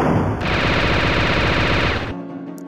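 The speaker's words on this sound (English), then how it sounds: "I assume I'm shooting at the moving thing, because it's a video game boss." Rapid automatic gunfire from Santa's weapons in a Christmas-themed indie video game boss fight, a loud, steady machine-gun stream lasting about two seconds before cutting off, with no talking.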